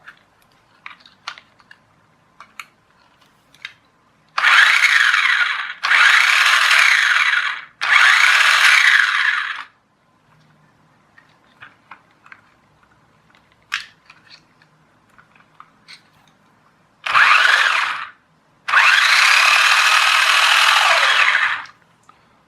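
The electric drive motor of a Revell Lion 4x4 toy truck whirs in four loud, steady bursts of a few seconds each, close up. Faint clicks and handling noises fill the gaps, with no speech.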